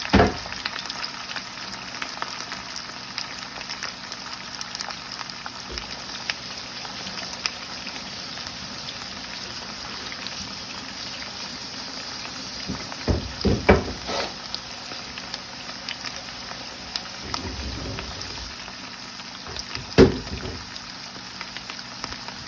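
Potatoes fry in hot oil for a Spanish tortilla española, a steady close sizzle and crackle running throughout with a few louder pops and clatters of a pan or utensil near the middle and toward the end.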